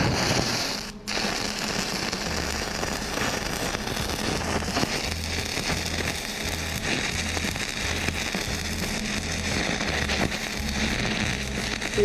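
Stick welding chain links with a 3/32 7018 rod produces a continuous loud, close crackling sizzle that runs almost unbroken for about twelve seconds after a brief pause at the start.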